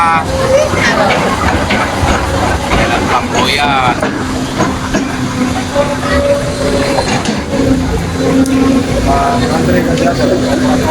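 A rumbling, clattering train rolls past steadily amid busy street noise, with a person talking over it throughout.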